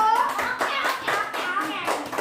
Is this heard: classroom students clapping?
yes